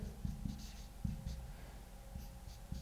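Marker or chalk writing on a board, a series of short scratchy strokes and taps in an irregular rhythm, fairly close and alone with no talk.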